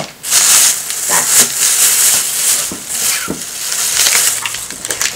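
A large sack of candy being rummaged through, crinkly wrappers rustling and crackling in a near, continuous bright hiss with scattered sharper crunches.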